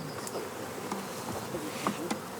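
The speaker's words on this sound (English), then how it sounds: "Bees have little chance of surviving in the wild." Insects buzzing steadily outdoors, with a few brief louder passes of a nearby bee standing out over a quiet background hum; no voices.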